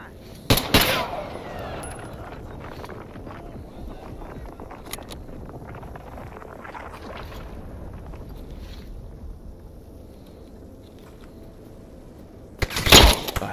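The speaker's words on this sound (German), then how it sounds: "Der knallt mir instant ab." Gunfire from an enemy in the video game Stalker, with sharp loud bursts at the start and again near the end, separated by a long stretch of windy, rumbling ambience.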